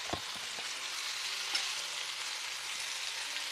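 Broad beans and eggs fry in a pan, giving a steady close sizzle throughout with a couple of faint stirring knocks, no voices.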